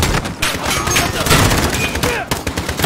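Rapid gunfire from the video game Call of Duty Modern Warfare, a loud, dense stretch of overlapping shots with some voices mixed in, running for about three seconds.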